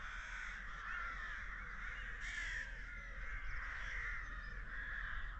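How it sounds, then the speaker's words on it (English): Rooks cawing constantly at a noisy rookery near a coastal campsite, a dense, continuous chorus of harsh calls overlapping throughout, loud and steady with no pauses. "Don't know if the camera's picking that up, but it's obviously a rookery. And it's very noisy."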